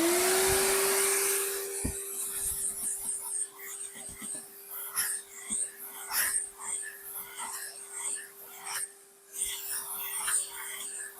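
A vacuum cleaner sucks over the parts of a Hoover Junior U1104 upright that is being refurbished. A loud rushing burst settles into a steady motor hum, with scattered knocks and rattles as the nozzle moves.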